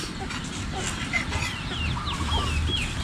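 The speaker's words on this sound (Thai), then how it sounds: "ไก่อ่อนอยู่ด้วยเนาะ" Chickens cluck and chirp in short bursts around a Thai village kitchen where chicken curry with fermented bamboo shoots is being cooked, with background noise throughout.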